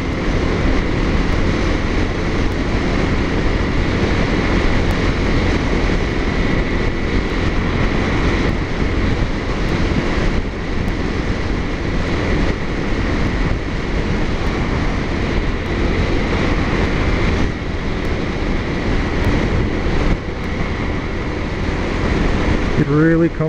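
A Suzuki DRZ motorcycle ridden home, carrying a loud continuous engine and wind roar with a steady drone throughout, heard up close from the rider's position.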